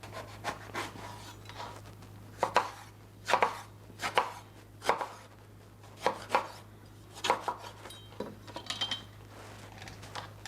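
Eggplant cut into big pieces with a knife on a board for Sicilian caponata, a dozen or so crisp, evenly spaced chops close by over a low steady hum, no talking.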